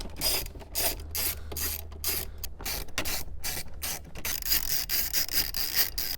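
A ratchet clicks steadily while removing screws from a Toyota Camry dash bezel, close, rapid pawl ticking in repeated bursts with brief pauses between strokes.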